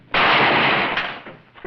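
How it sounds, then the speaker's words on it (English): A single gunshot from a revolver in a Western scene, a sudden loud blast that rings out and decays over about a second, with no talk over it. "The gun went off, didn't it?"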